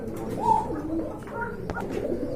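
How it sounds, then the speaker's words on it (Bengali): Domestic pigeons kept for sale at a Bangladeshi pigeon market, cooing in soft repeated low calls close by, with a few brief extra coos and a short sharp noise near the end. "হান্ড্রেড পার্সেন্ট কোয়ালিটি ফুল কবুতর"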